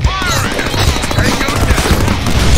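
Rapid pistol fire in the Deadpool video game, a dense continuous burst of quick shots with booming low end, loud and close, with game voices and music mixed underneath.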